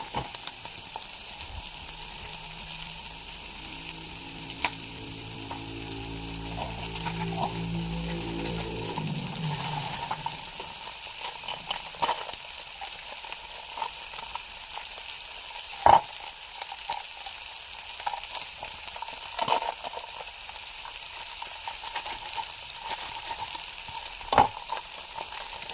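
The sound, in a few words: sautéing chicken chunks in a pan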